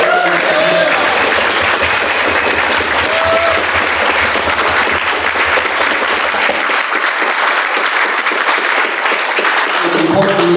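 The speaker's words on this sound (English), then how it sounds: "Can we get another round of applause?" Loud, dense round of applause from a crowd at a Libertarian Party convention speech, sustained for the full stretch, with talk briefly heard early on.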